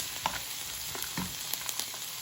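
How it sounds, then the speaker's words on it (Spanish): A little chopped onion fries in plenty of oil in a pan for a stew, a continuous close crackling sizzle with scattered sharper pops and light clinks, no talking. "aquí ya estamos friendo poquita cebolla con bastantito aceite"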